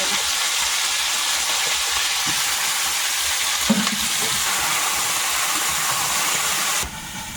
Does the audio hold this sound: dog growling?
no